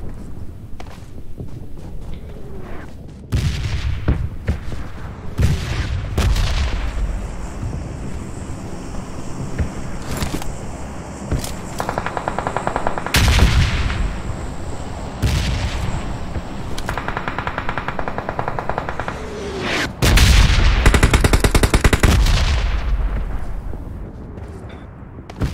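Gunfire in PUBG Mobile, with bursts of shots and rapid automatic fire across the stretch under steady wind and ambient rumble, some bursts loud and close, others farther off.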